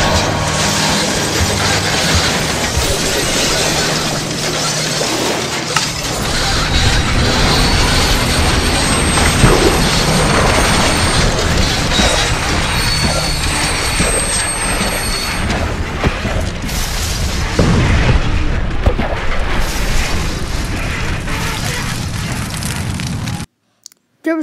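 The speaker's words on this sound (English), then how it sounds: "But then, the bridge started to collapse" The high girders of the Tay Bridge collapse under a train in a sustained roaring, grinding and crashing sound effect, loud and dense for over twenty seconds before cutting to silence.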